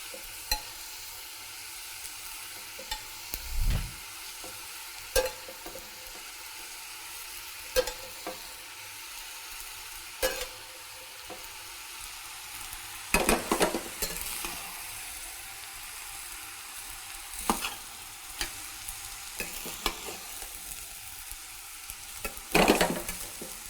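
Steamed rice being mixed with sautéed vegetables in a pan, a faint low sizzle with irregular scrapes and knocks of a spoon against the pan, close and with no talking.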